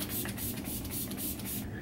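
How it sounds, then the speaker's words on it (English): Glam Glow Glow Setter setting spray mists out in several quick hissing pumps, close and fairly soft, with no talk. "We're gonna finish the face with a little Glam Glow Glow Setter setting spray."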